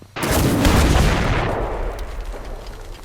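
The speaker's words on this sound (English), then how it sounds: "This rocket grenade is walking death" A rocket grenade slams into a solid steel slab over two inches thick during an old military demonstration, giving one loud, close blast that rolls into a long, decaying rumble.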